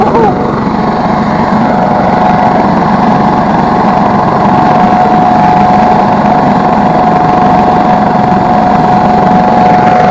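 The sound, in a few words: helicopter flying close overhead at a kart race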